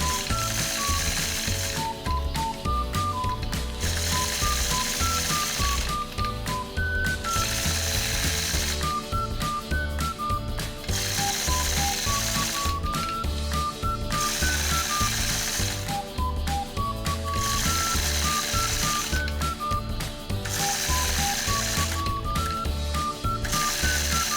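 Sewing machine quilting point-to-point curves along a Sway 3 ruler, giving a continuous rapid mechanical clatter that holds steady and close throughout, with a faint melodic pattern running alongside and no talk.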